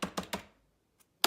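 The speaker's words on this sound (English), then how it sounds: "I love these old Mac keyboards. That is so satisfying." Keys clatter on an old Apple Mac keyboard with an ADB connector: three quick crisp keystrokes, a pause, a faint tap, then one louder click, close up.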